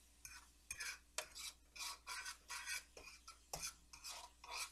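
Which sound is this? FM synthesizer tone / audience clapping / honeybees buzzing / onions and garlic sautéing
onions and garlic sautéing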